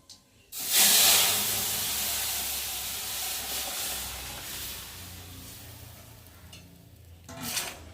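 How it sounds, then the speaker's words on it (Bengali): Lentil dal, a mango dal, is poured into a hot spice tempering and erupts into a loud, sudden sizzling hiss that slowly fades, with a brief second flare near the end. "আর এখন এর মধ্যে আমি ডালটা ঢেলে দেবো।"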